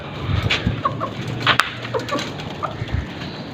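Several hens cluck and squawk in short, irregular bursts, fairly close, with scattered rustling and pecking noises between calls.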